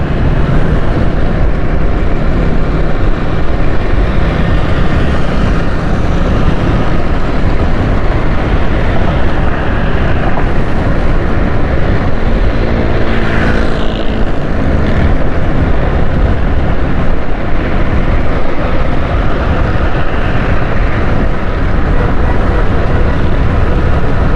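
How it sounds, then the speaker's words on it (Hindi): Strong wind roars steadily against the microphone along a city road in Karachi, loud, dense and unbroken for the whole stretch, with no voices. "बहुत तेज हवाएं चल रही हैं।"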